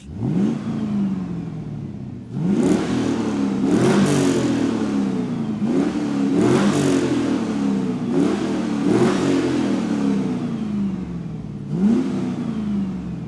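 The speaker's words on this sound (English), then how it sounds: "Take a listen to a couple of revs from a naturally aspirated old school muscle car V8." A 1990s Pontiac Firebird Trans Am WS6 with a naturally aspirated muscle-car V8 revs repeatedly up and back down. The blips are loud and close, with no talking.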